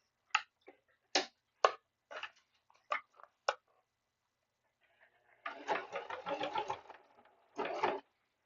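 A sewing machine top stitching stiff fabric gives a few separate sharp clicks, then a quick run of close, rapid stitching and one last short burst, all fairly near with no talking.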